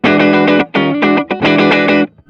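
Electric guitar on an amp's overdrive channel with reverb plays a quick run of gritty, harmonically rich chords and notes, loud and close, briefly gapped, fading into a reverb tail.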